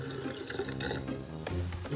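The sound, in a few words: hot water poured into sink drain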